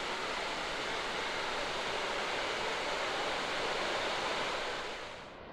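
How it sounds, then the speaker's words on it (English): A waterfall, one of several along a river with what were likely old mill buildings on either side, roars as a steady broadband rush of falling water, loud and continuous before easing slightly at the very end. "Right, another waterfall"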